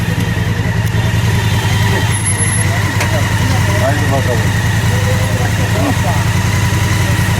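A motorcycle engine idles loud and close with a steady low rumble throughout, while people talk over it.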